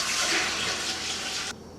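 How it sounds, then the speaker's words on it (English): Roughly a gallon of water pours in a loud, steady broad rush into a cooking pot holding spare ribs and chicken broth for rappie pie, then cuts off abruptly near the end. "and then about a gallon of water to cover it up"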